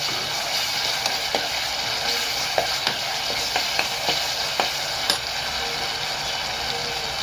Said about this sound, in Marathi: आता आपण टाकूया टमाटे टमाटे टाकूया टमाटे टाकूया